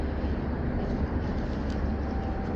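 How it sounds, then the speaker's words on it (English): A westbound train passes on a rail line, a steady loud low rumble with dense broadband noise that holds throughout, with a faint tonal whine near the end. "We might have us a westbound train."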